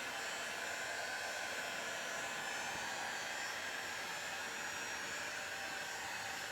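Heat gun blowing on a dented plastic chainsaw case, a steady, airy, hair-dryer-like roar with a faint hum, continuous and close, with no voices.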